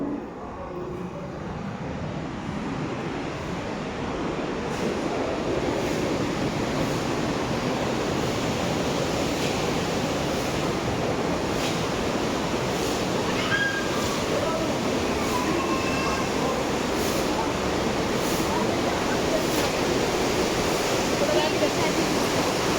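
A loud, steady roar of rushing water fills the whole clip, like a swollen river flowing hard, dense and unbroken from start to finish.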